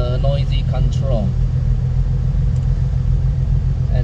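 A race car's exhaust rumbles steadily on a track, a loud low continuous drone with a brief voice at the start.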